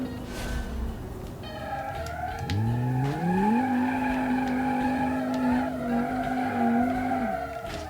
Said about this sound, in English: That was a good drift, despite hitting the curb.